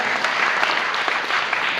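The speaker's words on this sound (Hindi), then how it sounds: "ये परिवार को हम एक बार जोरदार तालियों से उनका अभिवादन करते हैं" Dense applause from an audience at a Bhagavat Katha religious gathering, a steady wash of many hands clapping at once with no pauses.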